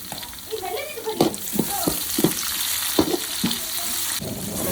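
Onions fry in a pan for a Tulu-style chicken pulimunchi, a loud, constant sizzle broken by repeated scraping stirs of a spoon at an irregular pace, close to the pan.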